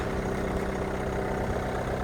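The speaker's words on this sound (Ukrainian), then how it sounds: "Двигунчик дізельок працює гарно." A diesel car engine idles steadily nearby, a low continuous rumble with an even tone and no voices.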